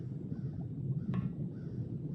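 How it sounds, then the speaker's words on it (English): Crows cawing in the stealth video game The Dark Mod, faint distant caws over a low ambient rumble. "I hear crows over here."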